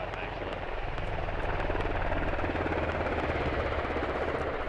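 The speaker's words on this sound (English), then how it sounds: "Helicopters, I just heard it fly over." A helicopter in the video game MARS: Scarlet Storm Rising flies overhead, its steady rotor thump and engine drone holding at moderate distance, fairly quiet, with faint talk over it.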